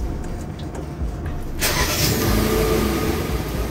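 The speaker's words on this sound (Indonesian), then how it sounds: "Katanya kunci ini bisa nyalain mobil atau manasin mobil" A Kia Sonet engine, started by remote key, cranks and starts abruptly, then settles into a steady running rumble nearby, with no voices.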